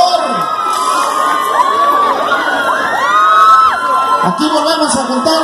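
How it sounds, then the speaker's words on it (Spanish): Crowd at a live banda music presentation in Cajititlán de los Reyes, Jalisco, cheering, whooping and shouting loudly and continuously, with children's shouts mixed in and a sustained noisy roar throughout. "Un aplauso, por favor."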